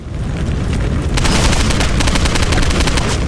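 Dense, loud gunfire in the shooter Postal 2 roars without a break for three seconds, a close wash of rapid shots that grows slightly heavier partway through, with no talk.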